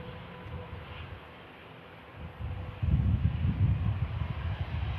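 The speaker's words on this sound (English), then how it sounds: "EasyJet just rolling out there" An EasyJet airliner rolling out at an airport, heard as a distant low jet rumble mixed with wind noise on the microphone, swelling louder partway through, with no voices.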